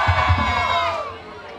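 Crowd at an evening stage event cheering and shouting loudly, a massed roar with a couple of rhythmic surges at the start that slowly fades toward the end.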